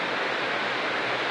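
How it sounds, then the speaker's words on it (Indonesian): Steady rain pours down outside a village home at mealtime, a dense, even hiss with no distinct drops standing out, continuous and fairly loud for the whole moment with no voices. "jadi maaf kalau ada suara berisik, itu suara hujan ya teman-teman"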